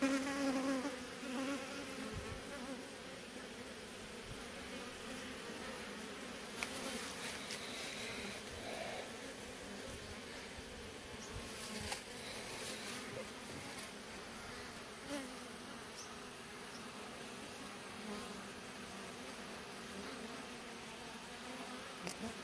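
Swarm of bees buzzing around a wild hive lodged in an electric pole outdoors in Asia, a dense, steady hum lasting throughout at close range, with no speech.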